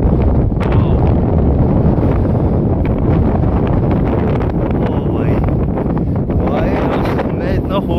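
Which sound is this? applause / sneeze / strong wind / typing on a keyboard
strong wind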